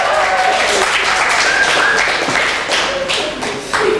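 A class of schoolchildren gives a short burst of dense, continuous clapping during a Mikulás Day celebration, close and fairly loud, fading slightly toward the end.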